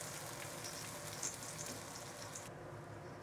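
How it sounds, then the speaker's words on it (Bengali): Onion paste with ginger, garlic and nut paste frying in hot oil with bay leaf and cinnamon for rohu fish kalia, a steady close crackling sizzle that cuts off sharply near the end. "আর দিয়ে দিব 1 কাপ পেঁয়াজ বাটা, আদা রসুন বাদাম বাটা দিয়ে আমি একটু কষিয়ে নেব"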